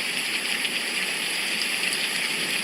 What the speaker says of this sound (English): So, see that downpour